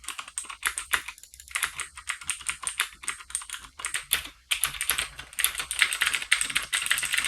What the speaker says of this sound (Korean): 타건음은 시끄럽지 않은 수준이며